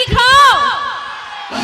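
A large crowd at a live stage show in Jharkhand with Khesari Lal Yadav and Akshara Singh whoops and yells loudly in a rising, sustained roar, then the shouting fades and swells again at the end.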